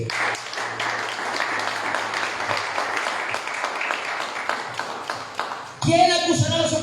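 Church congregation at an evangelical service breaks into applause for the Lord, a sustained spread of clapping and voices filling the room, with a sharper burst of sound near the end.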